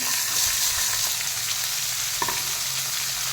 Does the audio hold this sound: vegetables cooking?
yes